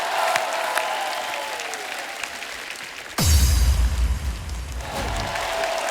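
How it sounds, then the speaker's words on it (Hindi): An audience at a comedy show claps loudly to welcome new dance talent, a dense burst of applause that swells suddenly midway and holds, following a quieter stretch of background sound. "एक बार जोरदार तालियों से स्वागत कीजिए नए टैलेंट का"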